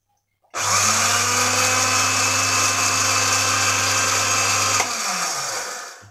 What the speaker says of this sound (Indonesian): Jadi kita blender lagi.